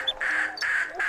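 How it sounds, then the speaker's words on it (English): A duck quacks three times in quick succession, each call short, nasal and close, with no other sound around it. "This is a duck. It says quack,"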